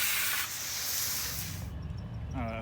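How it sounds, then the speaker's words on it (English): A garden hose sprays water onto a Pentair pool cartridge filter, giving a steady, loud hiss that shifts in tone as the spray moves, then cuts off abruptly near the end as a voice begins. "I finished spraying it off."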